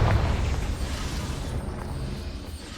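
A Confringo fire spell bursts in Hogwarts Legacy, a loud, deep boom at the start that rumbles and gradually dies away.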